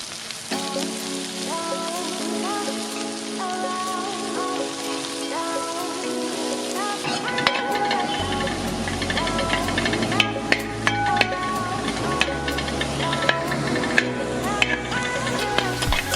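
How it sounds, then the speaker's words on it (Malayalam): Sliced onions fry in hot coconut oil with a continuous sizzle, layered under tonal background music, with sharper crackles and clinks of stirring appearing later on. "വെളിച്ചെണ്ണ തിളച്ച് വരുമ്പോൾ അരിഞ്ഞു വെച്ചിരിക്കുന്ന സവാള ഇട്ട് കൊടുത്ത് നന്നായിട്ടൊന്ന് ഫ്രൈ ചെയ്തെടുക്കാം"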